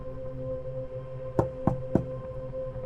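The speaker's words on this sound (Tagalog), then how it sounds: "Sino kaya tong kumakatok?" Three sharp knocks on a door, evenly spaced and fairly close, sounding over a steady low hum in an indoor room.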